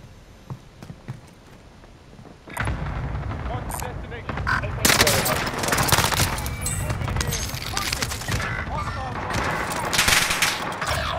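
PPSh submachine gun fire in a Call of Duty-style multiplayer match: rapid bursts of automatic shots, fairly close, with other in-game gunfire and effects mixed in and a player's voice occasionally heard over the action.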